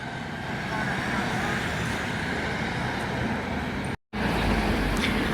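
A Stagecoach Gold ADL Enviro 400 MMC double-decker bus on route 94 to Gloucester pulls away in steady, moderately loud road noise, with a constant engine rumble and traffic wash and a brief dropout near the end.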